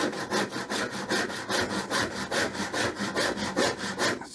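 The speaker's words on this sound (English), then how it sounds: "So what I'm doing on this side is just pinching and following down the piece with the saw just to keep that pressure where I want it." A hand saw rip-cutting along the grain of a wooden board, steady rhythmic rasping strokes about ten in four seconds, close and loud with no talking.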